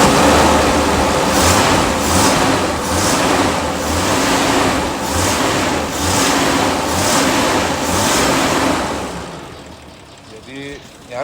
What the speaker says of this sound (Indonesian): Ini suara mesin dari 1980 2F.